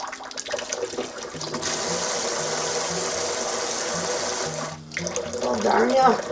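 Hot water runs from a tap in a basement sink, a steady rushing stream lasting several seconds, briefly cut off and then resumed with splashing near the end, close and fairly loud.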